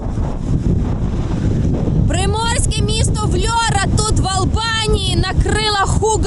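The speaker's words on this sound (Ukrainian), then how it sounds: "Це просто велетенський вітер." Strong storm wind in Albania roars and buffets the microphone throughout, with a person talking loudly over the gusts for most of the time.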